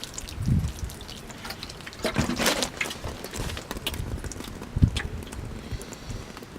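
Water poured over potting mix in a seedling tray for kale seeds, making soft, irregular splashes and trickles with a few sharper spatters, close by and fairly quiet, with no talking.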